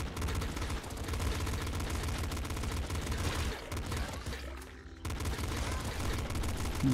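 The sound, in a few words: gunfire from the video game Nuclear Throne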